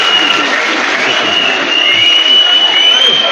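A large crowd applauds loudly and steadily at the official ceremony launching the Confederation of AES peoples in Bamako, with dense continuous clapping and a thin high whistle or ululation running through it.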